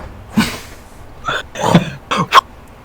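A voice imitates heavy wing beats with four breathy, whooshing bursts spaced unevenly over a few seconds, close and fairly loud.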